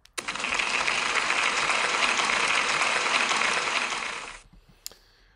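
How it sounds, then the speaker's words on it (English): Loud, full applause fills a school celebration hall, a thick unbroken roar of hands clapping that swells at once, holds steady for about four seconds, then drops off abruptly, followed by a couple of faint knocks. "Big round of applause, please"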